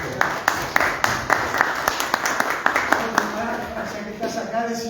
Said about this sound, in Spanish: Le damos un aplauso al presidente.